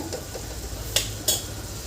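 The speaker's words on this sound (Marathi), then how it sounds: "अधेमध्ये अशी परतत राहायची आहे आणि अशी परतवत आपल्याला भाजी ही शिजवून घ्यायची आहे पूर्णपणे" A spatula stirs and tosses chickpea-leaf bhaji in a pan over a low, steady sizzle, with two sharp scraping clinks against the pan close by.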